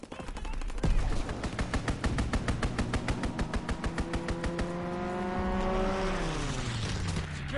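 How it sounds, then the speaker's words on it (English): A strafing run in a PS4 game: a rapid, evenly spaced burst of heavy gunfire rattles for several seconds, then gives way to a rising and falling jet engine roar as the aircraft passes by. "Strafing run inbound."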